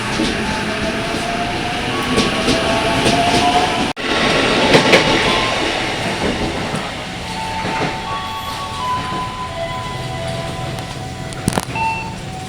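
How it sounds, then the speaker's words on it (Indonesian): A KRL commuter train pulls into Gang Sentiong station, its steady rumble and rail noise carrying close and loud, with squealing brake tones and a sharp clunk partway through as the carriage settles. "KRL sudah sampai di Gang Sentiong."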